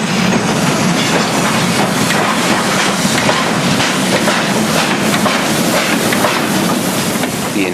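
Locomotive train at Dahuichang, China, rolling close by with a loud continuous rumble and rhythmic clickety-clack of wheels, faint squeals mixed in, no voices.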